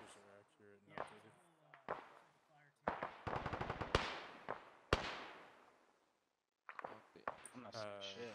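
Squads firing guns in Arma 3, heard as bursts of rapid automatic fire and sharp single cracks separated by short silences, loud and close, with voices speaking over radio between the volleys.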